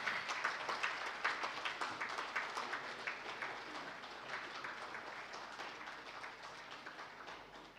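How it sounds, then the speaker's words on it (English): An audience at a foundation day ceremony applauds as a memento is presented to dignitaries, many hands clapping in a steady patter that gradually thins and softens toward the end. "A huge round of applause, ladies and gentlemen."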